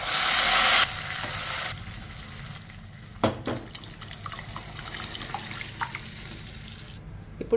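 Cooked dal poured into a hot pan of fried onion and garlic tempering gives a loud sizzling burst at first, then quieter bubbling with scattered clinks and scraping as it is stirred.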